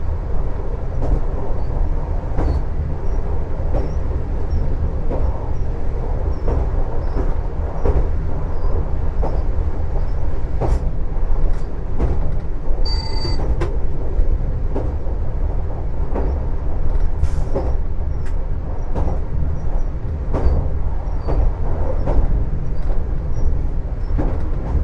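A TER regional train running between Beauvais and Le Tréport, heard from inside the cab as a loud, continuous low rumble with rhythmic clicks of wheels over rail joints and a brief high tone partway through.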